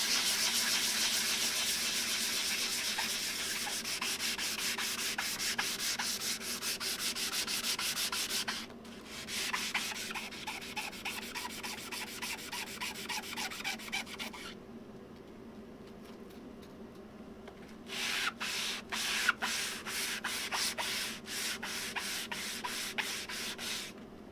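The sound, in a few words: sanding wood with sandpaper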